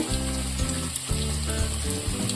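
Rohu fish pieces fry in oil with a loud, continuous sizzle and bubbling crackle close by, steady throughout, while a low background hum sits underneath.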